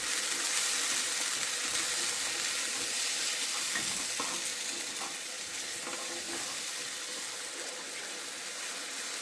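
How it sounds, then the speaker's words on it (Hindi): Kadhi poured into a hot garlic tempering sizzles and hisses steadily, close and fairly loud, with a few stirring clinks mixed in, the frying noise easing slightly toward the end. "थोड़ा सा लहसुन, और इसमें डाल दूँगी कढ़ी"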